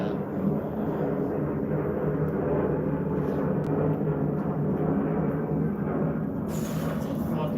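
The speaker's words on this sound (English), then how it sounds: "That's a fucking loud plane." A loud airplane passes overhead, its steady broad engine roar filling the whole stretch at constant strength and drowning out everything else.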